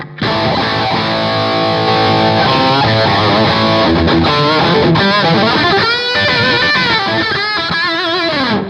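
A distorted electric guitar on an amp's lead channel plays a lead line, sustained notes giving way to fast bends and runs, loud and up close.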